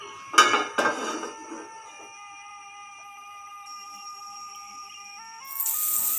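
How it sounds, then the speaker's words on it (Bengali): A pan is set down on a stove, giving two sharp metallic knocks followed by a long ringing hum that slowly fades, then a soft hiss at the end. "চুলার উপর পেন বসিয়ে দিচ্ছি"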